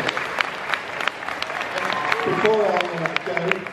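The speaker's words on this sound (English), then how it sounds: "Can we give a big round of applause" An audience at Play Expo 2015 applauds with steady, dense clapping, while a voice speaks over it partway through.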